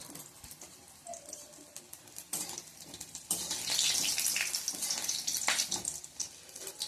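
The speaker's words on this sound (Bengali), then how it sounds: "এটা ভাজতে একটু বেশিক্ষণই সময় যায়" Bitter gourd pakoras fry in oil with a soft hiss that builds into a louder, bubbling sizzle in the second half, heard close and without voices.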